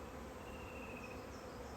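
A swarm of bees surrounds a beekeeper in a steady, faint, dense buzzing hum with no talk.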